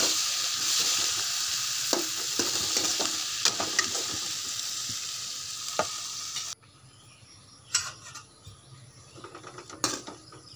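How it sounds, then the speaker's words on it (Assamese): Cabbage, brinjal and potato bhaji fries in a pan with a loud, steady sizzle and scattered stirring clinks for about six seconds, then the sizzle cuts off, leaving quieter clatter and scraping. "এয়া ৰাতিপুৱা খাবলৈ ৰুটি আৰু ভাজি বনাইছো বন্ধাকবি বেঙেনা আলু ভাজি"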